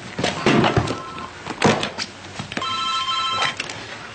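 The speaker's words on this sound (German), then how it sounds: "Ist es Ihr Telefon?" A telephone rings indoors with a clear repeated electronic ring, preceded by a few soft knocks and thuds in a quiet room.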